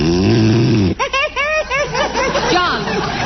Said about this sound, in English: you said you wouldn't snore